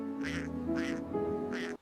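A cartoon duck gives three short nasal quacks in even succession, close and clear, with no talking.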